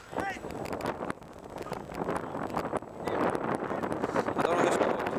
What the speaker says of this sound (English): It's 100 miles an hour wind